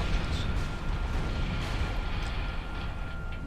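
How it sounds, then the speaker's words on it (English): Fireworks in the space combat game Everspace crackle and boom in a continuous dense barrage, a steady rumbling stream of small blasts with no pauses. "Bringing on the fireworks display"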